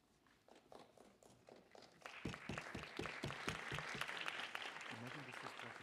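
A hall audience at an inter-municipality debate breaks into applause, a few scattered claps at first, then denser clapping that holds steady and fairly close.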